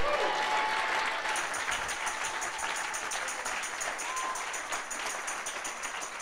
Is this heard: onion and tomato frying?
no